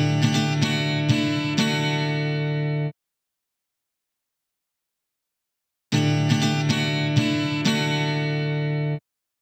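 Guitar strums from the Lamb Chop Loves Music PC game, a bright, full chordal burst of about three seconds with several quick strokes, heard twice with a silent gap between, with no talking.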